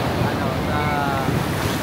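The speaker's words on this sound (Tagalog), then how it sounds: "kasi malaki yung alon" Large ocean waves roll onto a beach in Cancun, heard as a steady, loud wash of surf mixed with wind buffeting the microphone, continuous throughout with no clear break between waves.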